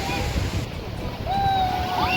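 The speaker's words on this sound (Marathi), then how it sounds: "एकदम जोरदार लाट आलेली आहे" Strong sea waves surge at Chandrabhaga beach, a loud steady rush of surf and wind that swells toward the end, with faint whistle-like tones riding over the noise.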